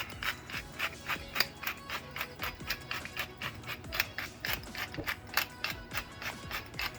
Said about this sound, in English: you're gonna add salt, and freshly ground black pepper